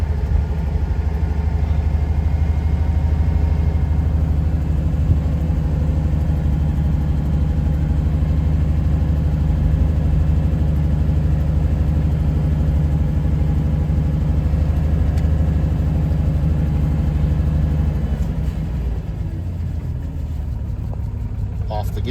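A 1958 Jaguar XK 150 engine idles after a cold start, a steady, loud, low-pitched burble running unbroken for the whole stretch, easing slightly near the end.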